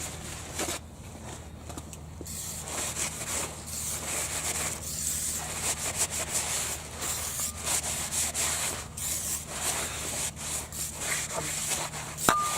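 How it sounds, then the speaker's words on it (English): A rag rubs repeatedly over brake-cleaned wheel hub parts and a new rotor from a 2000 Chevy Blazer, producing soft, close scrubbing strokes in an irregular rhythm over a low steady background hum. "Wipe it off."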